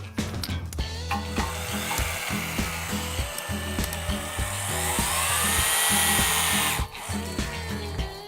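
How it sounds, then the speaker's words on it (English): A pneumatic impact wrench set to 450 foot-pounds hammers on a structural steel bolt, giving loud, rapid, rhythmic rattling bursts with a brief pause near the end, close and with no talk. "With our wrench still set at the 450 foot-pounds, I'm going to hold my finger on the trigger of the gun"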